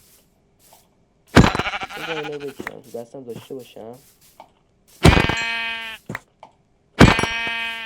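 Sheep bleat loudly in a video game mod, three long bleats, close and clear, with a person talking in between.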